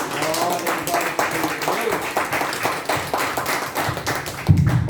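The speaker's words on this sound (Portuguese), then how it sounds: "E as palmas bem fortes para Jesus" A church congregation at a restoration service claps loudly and rhythmically for Jesus, a steady beat of many hands filling the room, with voices faintly mixed in.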